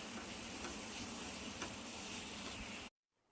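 Grated coconut, poppy seeds and white sesame seeds roasting in a pan over a low-medium gas flame, giving a steady close crackling sizzle with faint stirring scrapes that cuts off abruptly near the end.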